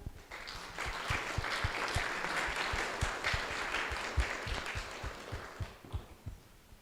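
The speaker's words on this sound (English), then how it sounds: "please, round of applause for Josef" A conference audience gives a round of applause after a question session, rhythmic unified clapping with strong regular beats under a dense wash of hand claps, thinning into scattered claps at the end.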